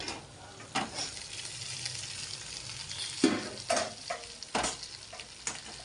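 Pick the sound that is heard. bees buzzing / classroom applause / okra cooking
okra cooking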